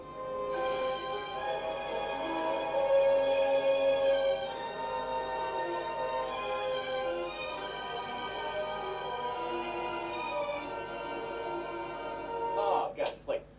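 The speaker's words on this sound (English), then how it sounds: "The original chord progression sounds like this." Piano playing the original chord progression of the bridge of a song written for the 1944 film The Uninvited: sustained, ringing chords that swell and change slowly, played alone and close, ending with a few brief sharper notes.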